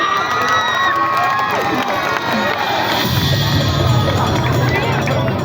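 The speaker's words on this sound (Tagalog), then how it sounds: "Bakit hindi nyo sabay-sabay palakpakan at hiyawan ang nag-iisang kawangis, yung Miss Barbie Imperial?" Crowd at a Laguna beauty pageant clapping and cheering, a loud continuous wash of applause mixed with shouts and whoops, voices babbling throughout.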